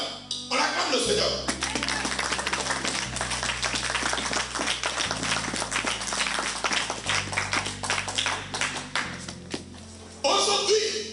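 A church congregation claps to acclaim the Lord, a dense run of rhythmic hand claps over steady music, fairly loud and sustained, with voices present at the start and end.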